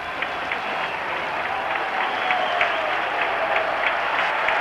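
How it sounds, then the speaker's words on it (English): A large crowd at a world championship rowing regatta cheers and applauds the gold medal winner of the men's single sculls final. The sound is steady, broad and sustained, with a commentator talking over it. "a big cheer for him"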